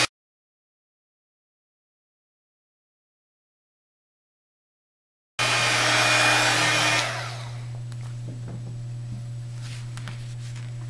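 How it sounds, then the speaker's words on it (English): A heat gun blows over clear embossing powder on a card, a steady close whooshing hum that starts abruptly after a long silence, loud at first and then settling to a slightly lower, continuous drone. "And then I'm just going to use my heat gun and emboss it."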